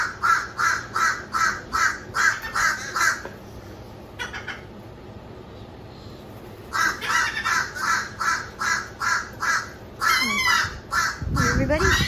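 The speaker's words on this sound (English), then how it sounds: "What do the birdies say? Chirping, burping, everything else." Birds at a carport give loud, rhythmic caws in a steady series that pauses, then resumes. A brief voice joins near the end.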